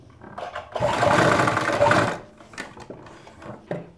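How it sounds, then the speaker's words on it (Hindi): A sewing machine stitches a half collar in one loud, rapid burst of about a second and a half, followed by quieter handling clicks and rustles. "यहाँ से अब एक पक्की करेंगे हम सिलाई"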